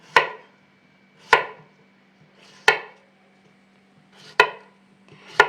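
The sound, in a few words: knife slicing cucumbers into rings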